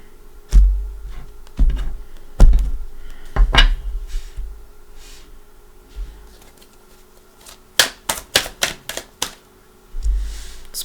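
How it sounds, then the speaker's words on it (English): A deck of tarot cards being shuffled and cut, with scattered soft riffles and taps early on, then a quick burst of sharp card slaps and a final soft shuffle, close and alone. "one more shuffle. Let's give it a cut"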